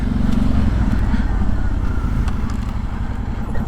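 A stock Kawasaki Brute Force 750 ATV engine runs close by, its loud, steady rumble holding throughout with no pauses and no talking.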